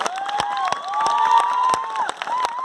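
An audience at a business event claps and cheers, with scattered sharp claps and shouts over a lively crowd, and a few whistles rising and falling above the noise.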